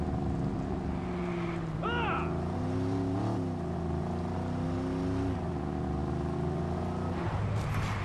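A car engine hums and revs steadily while driving in Watch Dogs on wet roads, with a brief skid-like squeal and shifting engine tones, heard alongside faint background noise.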